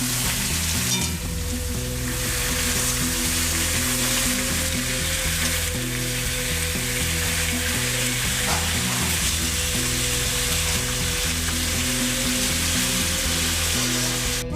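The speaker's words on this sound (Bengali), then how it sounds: "এর মধ্যে ওলনাটিগুলো দিয়ে দেবো। হালকা নেড়ে চেড়ে নেবো।" Elephant foot yam stems fry with browned onions in a pan, producing a continuous close, loud sizzle with a low steady hum beneath and occasional soft stirring, and no voices.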